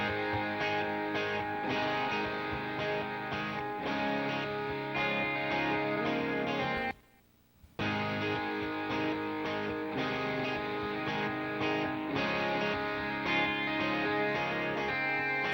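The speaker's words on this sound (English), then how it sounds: "And let's check out the reverb solo here." The soloed reverb return from the Leapwing Joe Chiccarelli multi-effect plugin plays on a music mix, with sustained washy, delay-like tails throughout, a brief near-silent gap in the middle, and no speech.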